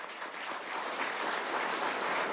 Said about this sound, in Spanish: Para ellos pido un aplauso también de bienvenida y de hermandad